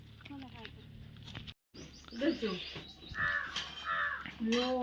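Several harsh crow caws ring out, some near and loud, with a voice talking in between and a brief silent gap.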